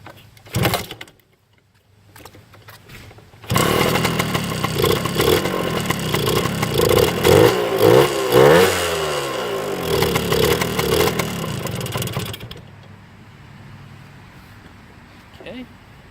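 A Suzuki TS125 motorcycle engine starts close by and runs for about nine seconds with a buzzing, uneven idle and a couple of small rev rises, then cuts off; brief talking before it.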